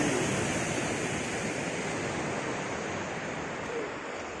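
Ocean surf rolling onto an unspoiled beach in Tulungagung, East Java, a steady broadband wash of breaking waves with wind, fairly loud and continuous throughout with no talking.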